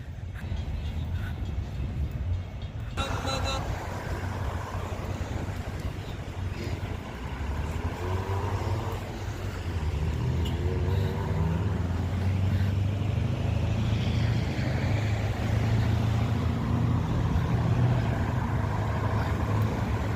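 Stopped midday traffic at a busy intersection in Canada gives a steady low rumble of idling car and truck engines, continuous and fairly loud for about twenty seconds with no clear voices.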